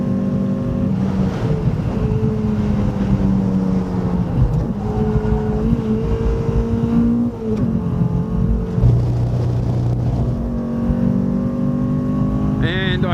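A small race car pulling hard through fourth gear on the Phillip Island circuit, the engine droning loud and steady with rising pitch and wind roar in the cabin, while the driver talks over it.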